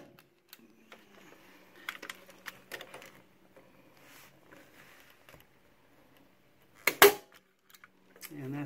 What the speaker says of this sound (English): It also has a guide that latches over the wire to keep you from shooting any staples into the wire.